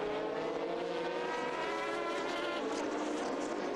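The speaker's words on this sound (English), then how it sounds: "Superb, growling, throaty bellow of the Corvette V8." Corvette V8 race car at Silverstone during a 2005 FIA GT Championship sports car race, its engine holding a loud, continuous throaty growl with no break.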